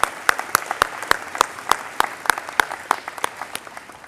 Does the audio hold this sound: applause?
yes